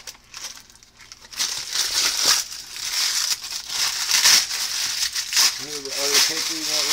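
Paper being crumpled and stuffed into a charcoal chimney starter for a barbecue, a continuous close crinkling with someone talking over it.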